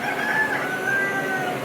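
Chickens cluck and crow on a farm near corn milling and larvae rearing, with a sustained drawn-out rooster-like call over a dense, steady background of poultry noise.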